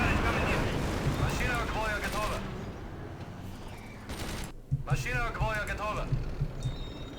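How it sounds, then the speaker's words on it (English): Artillery bombardment in the WWII strategy game Axis & Allies (2004), a rolling barrage of booms and rapid gunfire with whistling shells arcing overhead, loud and dense, pausing briefly midway before resuming. "So the Germans are coming again, so let's start bombarding them."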